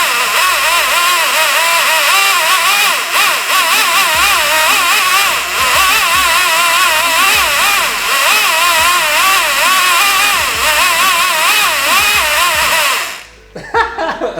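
A toy race-car sound effect from an AFX Japan HO slot car set: a loud, warbling electronic engine whine that rises and falls like revving for about thirteen seconds, then cuts off abruptly.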